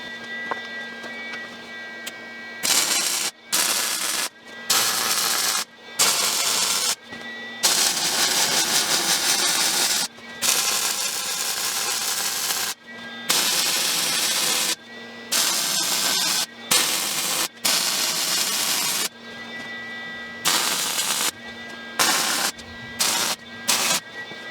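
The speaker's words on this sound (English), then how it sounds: "I'm ready to weld it up" Welding on a transmission center section during a TF904 to 46RH upgrade, with loud hissing, crackling bursts of a few seconds each, broken by short pauses.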